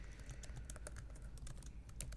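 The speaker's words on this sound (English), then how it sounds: "So let me just type in a prescription for you." Soft, faint clicking of a computer keyboard as a prescription is typed during a quiet eye exam roleplay, a steady patter of light keystrokes close by.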